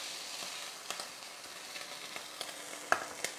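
Food browning in a hot frying pan during a home cooking session sizzles continuously with a dense, crackling hiss, broken by scattered sharp pops and spits.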